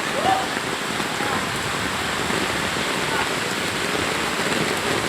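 Steady, dense rain hissing throughout during rapidly rising floodwater in Calayo, Nasugbu, a constant wash of drops with no pauses, fairly close.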